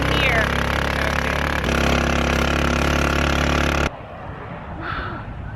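A vehicle engine drives through sand dunes in Qinghai, China, a loud continuous droning hum that cuts off abruptly near the end, leaving quieter wind and background noise.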